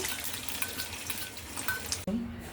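Beef cooking on a low stovetop flame gives a steady broadband sizzle with light stirring scrapes, then cuts off abruptly near the end into a brief low hum.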